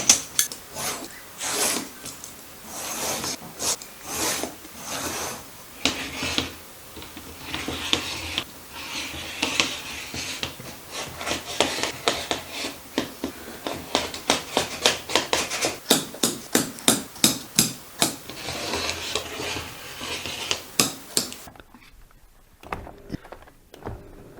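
Fabric being cut for a cargo pocket, a long run of rapid, rhythmic crisp snips and rasps close up, steady and dense for about twenty seconds before stopping abruptly.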